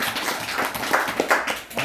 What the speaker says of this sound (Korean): 우리 박수를 한번.